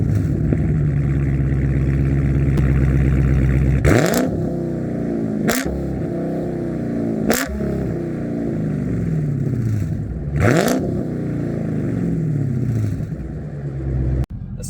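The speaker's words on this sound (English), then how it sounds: "This is one of the best sounding cars I have ever owned." A Dodge Challenger engine revs hard several times in sharp bursts, each climbing then falling back to a throaty idle, loud and close.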